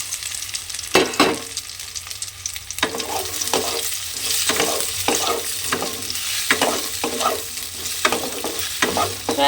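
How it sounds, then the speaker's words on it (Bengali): Soybean chunks are stirred and fried in hot oil in a pan, producing a continuous close sizzle broken by frequent rhythmic scraping spoon strokes, with no voices. "সয়াবিনগুলো আমি তেলের মধ্যে দিয়ে একটু হালকা করে ভেজে নেব।"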